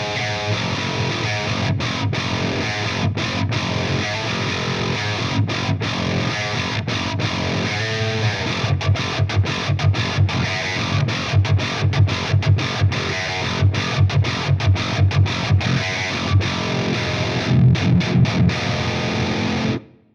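Heavily distorted 8-string electric guitar played through an Axe FX with an Ownhammer H30 cab impulse, loud chugging low riffs with rhythmic palm-muted stops and sustained chords, continuous for about twenty seconds before cutting off abruptly.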